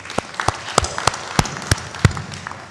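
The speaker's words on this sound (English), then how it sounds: "can you clap for these team members?" Applause from an audience at a corporate governance career fair, heard as scattered, sparse hand claps at an irregular rhythm over a couple of seconds in a roomy space.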